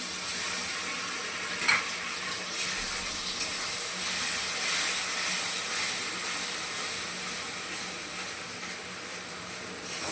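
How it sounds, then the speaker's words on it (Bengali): Tomato paste sizzles in hot oil with lightly fried onions, a steady close frying hiss that runs for the full stretch with faint stirring scrapes. "এবার দিয়ে দেবো আমি এই যে টমেটো বাটাটা।"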